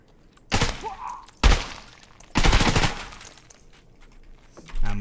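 Gunfire in the video game Escape From Tarkov PVE against an AI scav: three loud, sharp bursts of rapid shots with quieter gaps between, each burst ending in a short tail, followed by a final burst.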